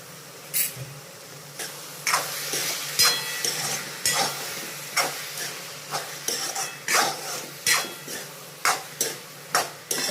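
Onions frying with salt in a pan for pav bhaji, with repeated scraping stirs at a steady rhythm over a continuous soft sizzle, close and moderately loud, with no talking.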